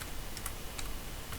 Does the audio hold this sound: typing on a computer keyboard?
yes